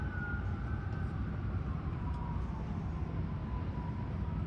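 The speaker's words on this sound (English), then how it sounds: "I'll let the sirens pass" Sirens pass outside during an indoor press conference, a faint wavering wail that slowly falls in pitch over a steady rumble of background noise and traffic.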